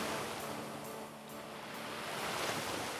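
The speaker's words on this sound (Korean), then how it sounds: "이 파도 소리에 귀 기울여야 되는 것 같아요" Ocean waves on the East Sea coast along a seaside boardwalk trail with rocky cliffs, heard as a continuous, fairly soft surf wash with gentle swells and no voices.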